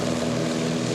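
STOL propeller aircraft roar at full power at the start of a drag race, a loud steady buzzing drone with strong harmonics that fills the whole moment.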